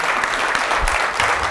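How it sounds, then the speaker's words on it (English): Conference audience applauds female cannabis industry leaders, dense and continuous clapping from a large crowd, loud and close throughout the short burst. "A round of applause for these ladies"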